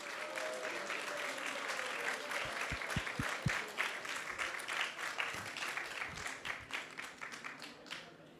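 An audience at a Sunday temple feast program applauds the mothers with sustained, moderately distant clapping that thins into scattered individual claps toward the end.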